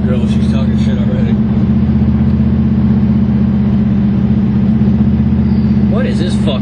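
A car engine idles and revs with a steady low rumble that holds throughout, loud and close, with people talking over it inside the vehicle.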